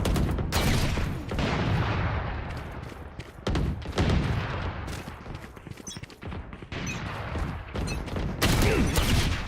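Gunfire in a Valorant match rattles in dense, repeated bursts with brief pauses between them, loud and close, with heavy impacts throughout.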